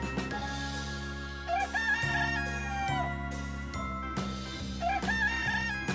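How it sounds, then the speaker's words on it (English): Rooster crowing loudly and close by, two long drawn-out crows with clucking between them, no voices. "The rooster has a loud, distinctive crow, which usually sounds in the early morning."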